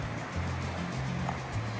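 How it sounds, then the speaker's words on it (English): River water flowing down from Gunlock Reservoir after record snowpack, a steady broadband rush close by, continuous and unbroken with no voices. "water flows down from the Gunlock Reservoir"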